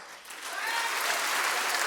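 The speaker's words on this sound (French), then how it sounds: "Par applaudissement à ceux et celles qui n'ont pas d'enfants." Comedy festival audience applauding during a stand-up set, a dense patter that builds quickly and stays even and full for a couple of seconds.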